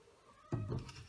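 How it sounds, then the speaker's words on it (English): A single short cat meow, close and soft, following a moment of quiet. "And my cat is also here."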